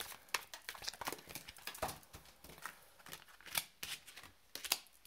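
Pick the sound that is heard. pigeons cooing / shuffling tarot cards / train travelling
shuffling tarot cards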